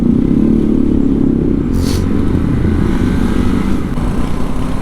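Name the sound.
motorcycles riding on gravel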